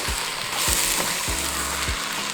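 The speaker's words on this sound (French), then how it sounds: "On va mélanger les légumes." Vegetables sizzling and frying in a pan for tortillas with beef, with steady loud crackle and a few scraping stirs, up close and without talk.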